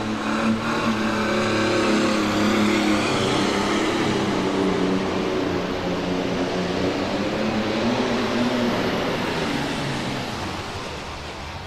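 A big John Deere 4555 tractor engine roars at a tractor pull, holding a loud, steady high-RPM drone throughout before easing slightly toward the end.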